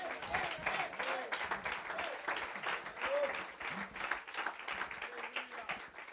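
A church congregation claps in praise to the Lord during a sermon, a steady moderate wash of applause mixed with scattered voices and exclamations, fairly distant and even throughout.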